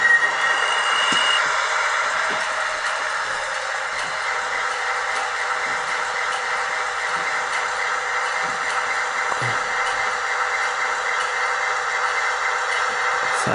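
An MTH Norfolk Southern Dash 9 HO-scale model locomotive with Proto Sound 3 plays a continuous diesel engine rumble with a steady mechanical hum, holding an even, fairly loud level throughout with no talking.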